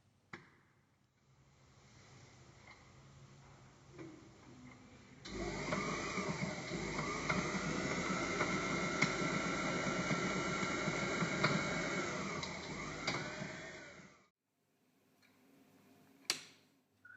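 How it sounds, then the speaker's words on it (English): A Bernina 1008 sewing machine runs under pedal power to wind a bobbin, a steady whirring motor hum lasting about nine seconds between quiet gaps, with light ticking before and a sharp click afterward. "Use your pedal to power the machine and the bobbin will wind."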